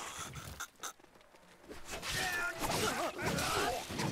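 A dog barks and whimpers in the samurai video game Trek To Yomi, with short canine calls set against a busy game soundscape and some background voice.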